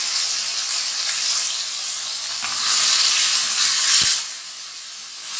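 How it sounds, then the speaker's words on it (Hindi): Chicken pieces for malai murgh sizzle and hiss steadily in a pan over lowered flame, a close, bright frying wash with a brief pop near the end. "ये चिकन देखिए बहुत अच्छा सा फ्राई हो गया है।"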